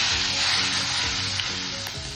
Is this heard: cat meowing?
no